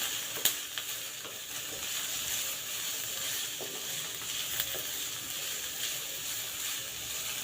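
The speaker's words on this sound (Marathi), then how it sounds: "अगदी तांबूस रंग येईपर्यंत छान भाजून घेऊयात आपण" Spices for misal roast in oil in a pan until reddish-brown, a soft continuous sizzle with occasional light stirring scrapes and taps, fairly quiet and steady.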